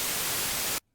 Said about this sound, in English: So what we have here is we have basic white noise that just sounds like this.